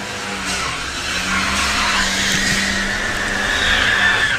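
An Audi A3 and a Porsche drag racing side by side at Santa Pod Raceway during Bug Jam qualifying, with a loud, steady engine roar and rising revs throughout and no talking.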